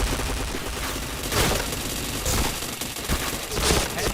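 Video game gunfire, rapid bursts of automatic shots in a dense, continuous barrage with a few louder cracks standing out, loud and close throughout.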